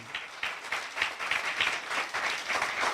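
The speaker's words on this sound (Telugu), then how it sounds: "గట్టిగా చప్పట్లు కొట్టి దేవుని నామమున మహింపరుద్దామండి" A church congregation claps loudly together during worship, a dense, pulsing burst of applause close by.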